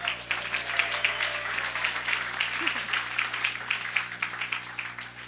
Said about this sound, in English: Give a round of applause for those guys